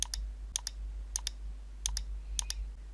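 Mouse clicks in Adobe Illustrator while a print document is being set up, about eight sharp, close, quiet clicks, mostly in pairs, over a steady low hum.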